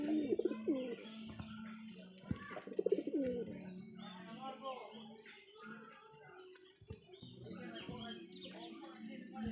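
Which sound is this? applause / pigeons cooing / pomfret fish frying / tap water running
pigeons cooing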